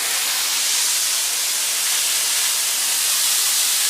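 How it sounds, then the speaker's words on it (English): A Dupray One Plus steam cleaner blasts a loud, steady hiss of steam, unbroken and close for the whole stretch. "Just for steaming, just for natural steaming."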